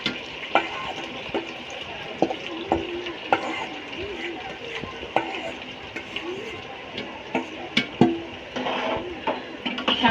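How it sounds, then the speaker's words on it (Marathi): A paste of onion, green chili, garlic and ginger frying in hot oil, a steady sizzle broken by the scrape and clack of a spoon stirring against the pan, close and fairly loud, with no voices. "छान आपण आता हे सुद्धा तेलामध्ये परतून घेऊया."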